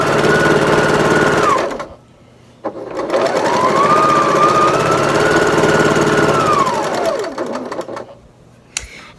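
A sewing machine pieces a quilt top in close, loud bursts of rapid stitching: one short run, a brief pause, then a longer run whose whine rises and falls before stopping.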